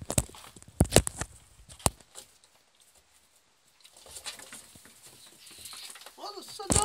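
A ferret makes soft chirping, clucking noises with faint pattering movement close by, broken by a quiet gap and a person talking over the start and end.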